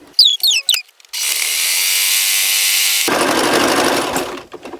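A sewing machine runs in two sustained bursts as it stitches cosplay fabric, a fast, steady mechanical whir that follows a few brief rustling clicks and ends with a short pause and a faint clack.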